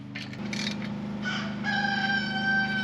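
A rooster crows, with a few chickens clucking nearby over a low background hum.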